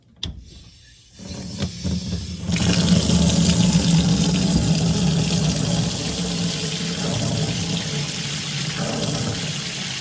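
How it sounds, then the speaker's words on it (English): Hot water tap running in a home with a no-hot-water fault: a few clunks of the handle, then a strong, steady rush of water into a sink that continues loud and close to the end. "I'm gonna turn on the hot water."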